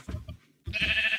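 A sheep in the video game Minecraft lets out two short bleats, the second drawn out and buzzy, clear and close with no talk.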